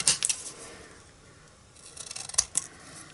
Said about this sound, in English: I'm just going to take my long scissors here, and I'm going to do this one freehand.